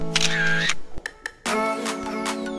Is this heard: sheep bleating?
no